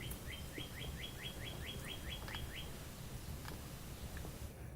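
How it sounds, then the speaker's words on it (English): A bird repeats a rapid series of high chirps, about a dozen in a row, then goes quiet, over a steady low background rumble. "Do you hear the birds outside my window?"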